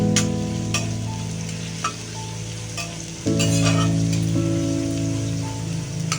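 Crispy chicken is being sautéed with spring onion in a pan. A loud, continuous sizzle is broken by clattering spatula strokes, and a steady hum from a burner or hood runs underneath. No one speaks.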